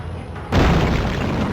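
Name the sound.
explosion in Spider-Man 3 video game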